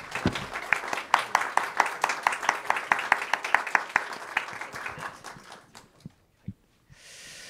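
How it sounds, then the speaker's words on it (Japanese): An audience at a forum session gives a round of applause, many hands clapping in brisk, fairly even beats for about four seconds before it tapers off into a few last claps and quiet. "一旦ちょっと拍手でお送りしたいと思います"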